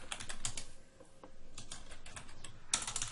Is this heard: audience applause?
no